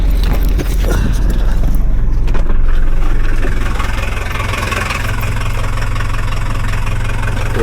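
A 1979 Mercedes W123 engine idles close up, a loud, steady low rumble with a knocking mechanical chatter and a brief rise in intensity early on before settling.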